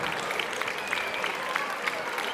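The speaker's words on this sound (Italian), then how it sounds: "E questo è l'applauso di tutti per i fuochi d'artificio" A crowd at an outdoor village event in Ollolai applauds a fireworks display, a steady mass of clapping with some louder individual claps standing out.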